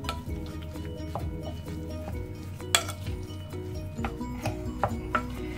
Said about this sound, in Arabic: وغادي نخلطوا الكفته ديالنا، نشرملوها مزيان